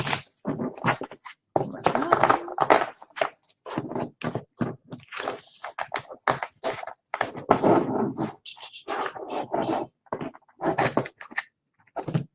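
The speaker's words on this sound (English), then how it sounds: "shuffle this deck." A deck of cards is shuffled on a table that rings loudly, giving irregular bursts of riffling, slapping and scraping with short gaps between them.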